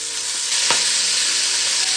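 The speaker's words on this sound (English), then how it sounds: "fry up them greens in that bacon grease" Collard greens fry in bacon grease in a pot, giving a steady, loud, close sizzle throughout with one brief scrape of stirring partway through.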